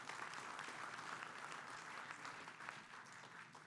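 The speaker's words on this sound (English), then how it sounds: "so let's give him another round of applause." A summit audience gives the Texas Speaker of the House another round of applause, a soft, distant-sounding blanket of clapping that stays fairly even throughout.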